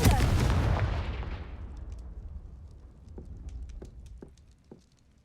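A Confringo fire spell in Hogwarts Legacy detonates in a heavy, booming blast that rolls off into a fading rumble, followed by scattered small crackles and pops as it dies away.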